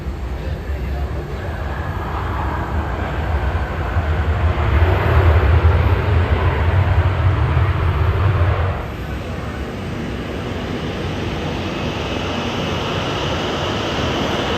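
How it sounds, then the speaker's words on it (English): Virgin Australia Boeing 737 landing and arriving, heard from the airside as a broad roaring rumble that swells, holds for several seconds, then drops to a steady lower drone of engine noise. "allowed me to film my landing and arrival of my aircraft from the airside view"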